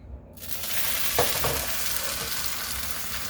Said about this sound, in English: I'm going to stick the corn tortilla into the juices, and I'm just gonna put it right onto the skillet